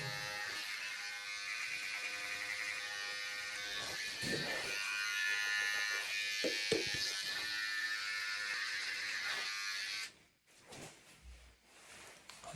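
An electric hair clipper hums continuously during a home haircut in a bathroom, a steady close buzz that shifts slightly as it moves through hair, then cuts off abruptly near the end, leaving faint handling noises.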